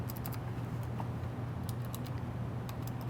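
Soft clicks from a mechanical keyboard with blue switches come in short bursts at the start and again later, over a steady low hum, fairly close and quiet.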